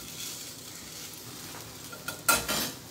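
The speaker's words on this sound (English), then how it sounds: "since I'm making that bacon for both self and daughter who likes it really crisp, we shall leave it there for a little longer" Bacon fries crisp in a pan with a steady low sizzle throughout, close and fairly quiet, with a brief louder crackle and scrape near the end.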